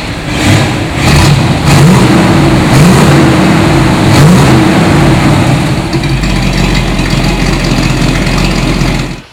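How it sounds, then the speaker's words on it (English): A 1962 Chevrolet Corvette Roadster's engine starts with a few sharp revving bursts, then drops into a loud, steady, low idle that carries on to the end, with no talking. "Let's go ahead and start it so you can hear what it sounds like."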